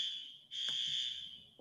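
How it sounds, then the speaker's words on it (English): An alarm going off outside: a steady high-pitched electronic tone sounding continuously, briefly dipping then resuming, moderately faint and heard from a distance against a quiet room. "apparently there's an alarm where Casey is."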